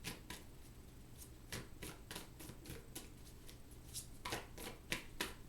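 Tarot cards being shuffled by hand before a clarifier card is drawn; soft, quick riffling flicks and card slaps in an irregular series, close and quiet, with no talking.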